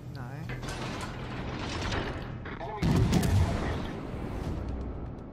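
A warship's guns fire in World of Warships, one loud heavy salvo bursting out near the middle over a background of mechanical clanking and ratcheting turret noise, with a softer rumble continuing afterward.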